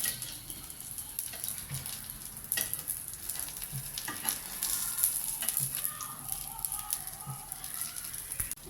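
Traditional vegetable kara adai batter cooking in a pan on low heat, a faint, continuous sizzle with soft, periodic stirring scrapes close by.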